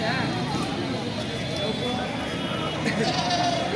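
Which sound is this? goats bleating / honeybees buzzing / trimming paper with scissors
goats bleating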